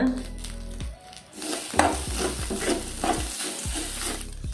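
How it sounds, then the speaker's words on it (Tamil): Grated coconut and manathakkali greens sauté in a pan for thuvaiyal, a continuous close sizzle punctuated by repeated scraping strokes of a spatula against the pan, with no talking. "தேங்காய் அந்த பச்சை வாசனை போகிற வரைக்கும் தேங்காய் நல்லா வதங்கணும்"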